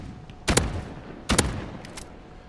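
Two heavy R9-0 shotgun blasts in Call of Duty: Modern Warfare, loud and close and spaced almost a second apart, each with a short tail, followed by faint clicks.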